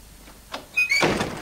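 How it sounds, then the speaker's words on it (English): A door in a home is pulled shut and latched, giving a soft thunk followed by a brief squeak and a louder close-by clatter of the latch and lock, with no talking. "Lock the door."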